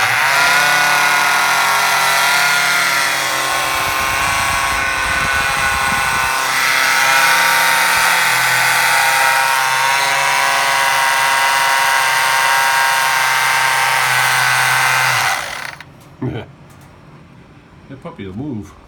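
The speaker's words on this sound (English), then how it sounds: "Now I'm going to start this thing up. It's loud" Small TMY electric motors running in a wooden 18-inch toy speedboat, a loud steady whining drone that cuts off abruptly near the end, followed by a few faint clicks and handling sounds.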